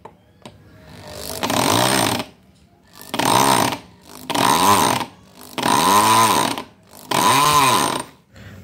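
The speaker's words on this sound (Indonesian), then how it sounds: "Jadi bor kita tetap halus suaranya dan enak dipakai." A power drill whines loudly in five separate bursts, each lasting about a second, with short pauses between them. The bit grinds hard into granite in a wall.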